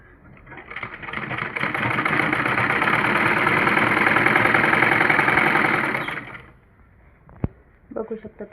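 A sewing machine runs in one steady whirring burst of about five seconds, stitching a 2-inch strip onto a satin petticoat. It is close and loud, then stops, followed by a sharp click and brief handling noises.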